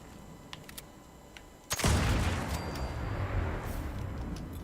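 A Berserker Explosive black powder rifle in Fallout 76 fires one loud shot with a heavy explosive boom and a long rumbling tail, after fainter clicks and taps.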